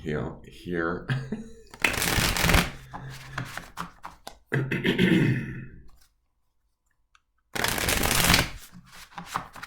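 Tarot cards being shuffled in brisk riffling bursts, close and loud, alternating with a person talking and a short silent gap.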